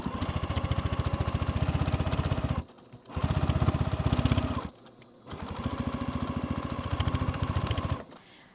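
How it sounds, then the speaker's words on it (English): A sewing machine stitches binding down on a fabric bag in a steady, fast motor hum with rapid needle chatter. It runs in three stretches with short pauses between them. "We're just going to sew that down."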